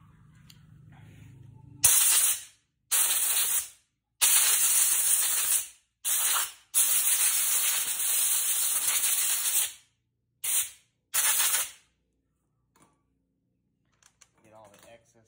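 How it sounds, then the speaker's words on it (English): An air blower cleans debris off a moped carburetor in seven loud, hissing bursts of varying length with a faint whistle, separated by short silences, then quiet with a few soft handling noises. "I'm just going to blow off the excess with my air blower here"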